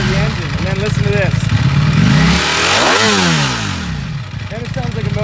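A 2018 Ducati Panigale V4S revs hard on a dyno, loud and close, its V4 engine climbing and falling through sweeping pitch changes with an uneven firing-order burble and mechanical clatter underneath.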